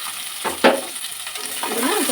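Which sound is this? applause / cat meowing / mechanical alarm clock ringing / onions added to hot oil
onions added to hot oil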